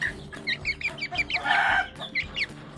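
An Indonesian black chicken (Ayam Cemani) clucks close by in a quick, steady series of sharp, repeated clucks over a low background hum.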